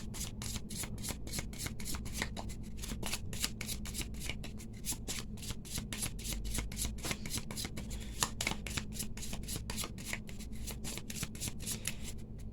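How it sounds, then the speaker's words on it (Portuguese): A Gypsy fortune-telling card deck is shuffled and cut, a rapid, steady run of close, crisp card flicks and slaps continuing throughout with no voice. "Embaralhei aqui pra gente, cortando um monte"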